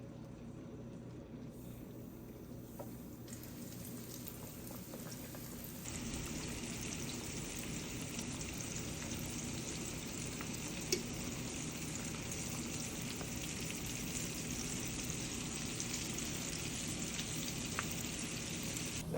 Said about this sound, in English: that chicken is frying